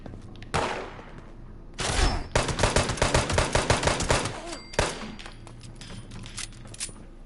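Gunfire in the video game Fallout 76: a few isolated shots, then a rapid rattling burst of many close, loud shots, with one more sharp shot after it and lighter clatter trailing off.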